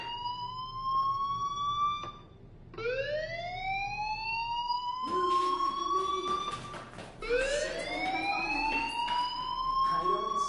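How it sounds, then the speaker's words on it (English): A fire alarm in the video game Life is Strange sounds as a rising, wailing siren, repeated several times at loud, steady volume, with faint voices underneath. "Hey, do you hear that fire alarm? That means you should be outside."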